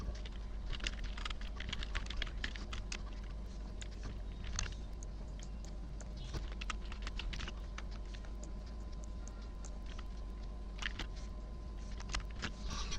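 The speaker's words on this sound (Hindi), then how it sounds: "यहाँ पर आप कोई क्वेश्चन टाइप कर दीजिए।" Quiet, fairly rapid keyboard clicks as a question is typed on a computer keyboard, irregular bursts of keystrokes over a low steady hum with no talking.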